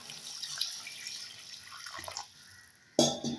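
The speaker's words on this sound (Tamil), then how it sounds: "இப்போ காய் வேகிற அளவுக்கு தண்ணி சேர்த்துக்கலாம்." Water from a tap poured into a pot of brinjal and drumstick sambar, a steady splashing stream that ends briefly before a louder burst of running water near the finish.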